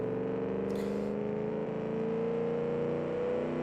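A muscle car engine built in Automation runs in BeamNG, a steady, smooth droning hum at a held idle-to-cruise pitch, moderately quiet and continuous, with a brief faint hiss early on.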